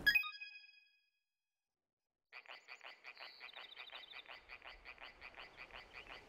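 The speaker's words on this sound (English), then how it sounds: "I hear frog sounds." A frog croaks in The Legend of Legacy, a 3DS role-playing game, after a short electronic chime and a pause, repeating in a quick, even, faint rhythm that goes on steadily to the end.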